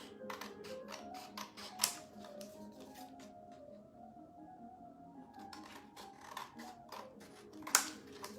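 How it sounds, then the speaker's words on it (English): Scissors snip through a paper card template in quick runs of small crisp cuts, close and quiet, pausing midway before another burst of snipping. "so I'm going to go ahead and cut that out"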